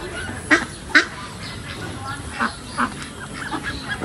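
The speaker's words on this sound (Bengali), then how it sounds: "ওই যে সাদা হাঁস, এই আরো হাঁস আছে এটার মধ্যে" White ducks in a park give several short, loud quacks spread across the moment over a soft outdoor background.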